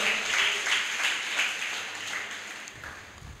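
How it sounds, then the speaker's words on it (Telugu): Church congregation clapping during a sermon, a fairly faint, rhythmic burst of many hands that pulses steadily and tapers off toward the end. "చప్పట్లు కొట్టి దేవుని నామాన్ని కనబరుద్దాం."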